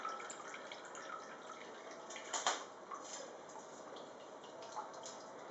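Homemade vegetable broth strained through a sieve, a steady soft trickle and patter of liquid dripping into a bowl, fairly quiet and even, with a couple of brighter splashes and no talk.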